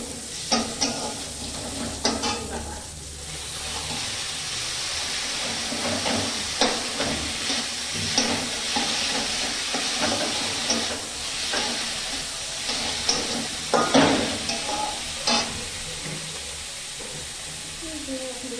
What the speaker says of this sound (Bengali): শাক ভাজছি